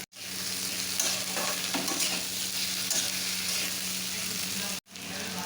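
Tomato fries in a pan with ginger, cashews and spices for chicken kosha: a dense, loud, continuous sizzle with stirring scrapes, briefly cut off near the end.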